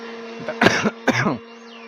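Two close, harsh coughs in quick succession, each a short burst with a rough throaty edge, over a steady low hum.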